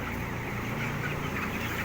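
A flock of 20-day-old chicks gives a dense, continuous chorus of chirping and soft clucking, steady and fairly close with no single call standing out and no talking.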